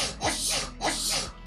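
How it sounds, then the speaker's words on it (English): Two sneezes in a row, each a quick breathy intake followed by a sharp burst, clear and close: a sneeze sound effect. "So we got some sneezing."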